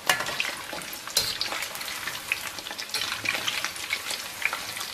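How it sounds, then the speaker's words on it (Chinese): Dumpling wrappers deep-fry in oil over low heat, giving a dense, steady bubbling sizzle with brief scraping bursts from constant stirring, close and moderately loud, no speech. "全程一定是中小火慢炸，不停地翻动"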